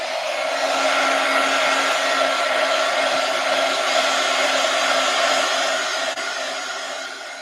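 A hair dryer blows steadily on a craft piece, a loud, even whooshing hum that holds constant and eases slightly toward the end.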